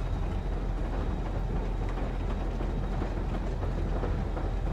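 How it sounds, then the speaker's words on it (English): A large train in the survival game Rust rumbles past with a steady, dense low roar and faint rail clatter, continuous and fairly loud with no voices. "Another big train up there."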